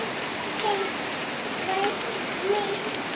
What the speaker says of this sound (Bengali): দেখেন বৃষ্টি হইতেছে